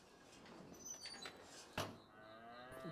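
Cows moo inside a small barn in Farming Simulator 25, several drawn-out lowing calls amid faint shuffling and a sharp thump like a door, all fairly quiet with no talk.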